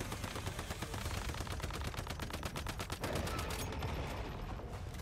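Rapid automatic gunfire in the survival shooter Once Human, aimed at a meteor during a boss fight. Dense bursts of shots run steadily for about five seconds, loud and close, with a short break near the middle.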